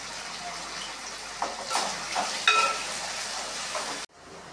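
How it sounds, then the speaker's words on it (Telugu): Potatoes frying in a pan for Telugu-style aloo fry, salted, giving a steady close hiss and crackle that swells and bubbles in the middle, then cuts off abruptly near the end. "మధ్యాహ్నం భోజనం చేసి ఆలూ ఫ్రై అయితే చేస్తున్నాను"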